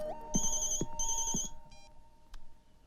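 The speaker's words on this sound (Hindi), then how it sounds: "माया का फोन है।" A mobile phone ringtone plays in short repeated electronic bursts, fairly quiet and close, with a brief pause before a last faint chirp and no talk over it.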